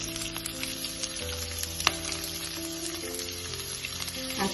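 Onions and green chilies sizzle in a hot pan with ginger and garam masala for a mutton stew, a steady close crackle with a sharp clink of a utensil partway through and a faint hum underneath.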